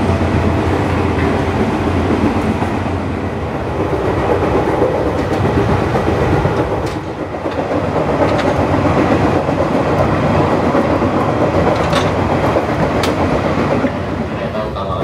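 A commuter train near Citayam station at dawn, its unturned, bumpy wheels thumping steadily on the rails in a repeating rhythm, loud and close from inside the carriage with a constant rumbling roar and a brief dip midway.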